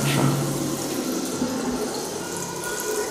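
Tap water runs steadily in a newly built kindergarten washroom with three toilet cubicles, a continuous broadband splashing rush that stays near and fairly loud throughout, with no talk over it.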